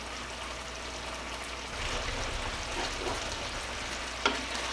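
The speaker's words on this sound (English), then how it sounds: "I'm just waiting for my Hawaiian meatballs to finish cooking" Hawaiian meatballs sizzling steadily in a pan, a continuous close frying hiss with low bubbling, ending in one sharp small pop.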